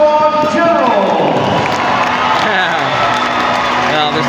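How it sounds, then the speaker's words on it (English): A hockey arena crowd cheers and applauds for the Oshawa Generals after a home game against the Brampton Steelheads, a dense, loud roar filling the space with scattered whoops and voices mixed throughout. "they're still cheering their boys"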